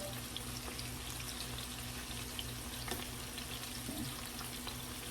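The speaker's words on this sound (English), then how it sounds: "the chicken breast is now cooking" A chicken breast fries in a pan with a soft, continuous sizzle and occasional faint pops. It stays quiet and even, with a low steady hum underneath.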